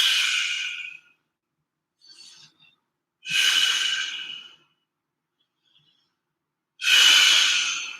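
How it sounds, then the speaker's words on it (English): Deep, slow yoga breaths during a flow sequence, three long airy exhales spaced a few seconds apart with a faint short breath between, close and fairly loud with no talking. "Give me a few breaths here."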